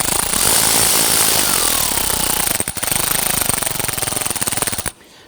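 A power tool rattles steadily as it snugs down a battery bracket on a Honda Ridgeline. The loud, continuous hammering pauses briefly and then stops abruptly.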